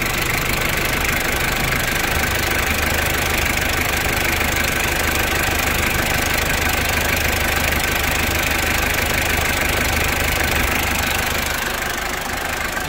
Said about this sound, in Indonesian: Suaranya ciri khas Hardtop Diesel.